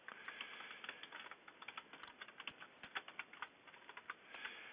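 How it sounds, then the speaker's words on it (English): Fingers type on a computer keyboard, a quick irregular run of close, crisp key clicks with short pauses, heard alone in a quiet room. "highlight the characters, and start typing"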